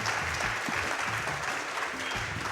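A live crowd claps steadily and continuously, a dense wash of applause heard up close, while a few indistinct voices and low game music sit faintly underneath.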